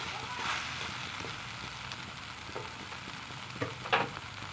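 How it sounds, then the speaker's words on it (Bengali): Taro stolons and onion fry in oil in a pan, a soft steady sizzle with occasional stirring clatters, while a voice talks over it. "পেঁয়াজটা দেওয়ার পরে আরও 2 মিনিট ভেজে নিতে হবে এইভাবে।"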